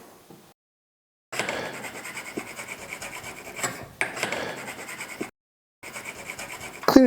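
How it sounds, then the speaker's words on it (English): A file rasps metal burrs off a freshly cut bike part in several close, scratchy bursts of strokes separated by brief silent pauses. "Cleaning up the left side here, just making sure there's no burrs, no metal burrs"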